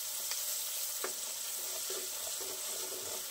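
Pasta sauce with chili powder and salt sizzles quietly in a pan while being stirred, a soft constant hiss with a few light scrapes and taps, fairly faint and without speech.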